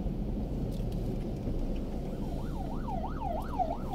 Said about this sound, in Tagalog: may mga ambulansya.